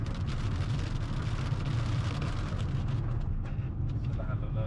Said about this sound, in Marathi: जोरदार पाऊस सुरू झालाय